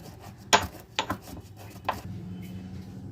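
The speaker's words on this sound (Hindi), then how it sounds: "1 अदद खाने का चम्मच हमने ले लिया साबुत ज़ीरा, इसको अच्छे से क्रश कर लेंगे।" Whole cumin seeds are pounded coarsely in a kitchen, a few sharp knocks and short grinding rubs scattered over a few seconds, close by.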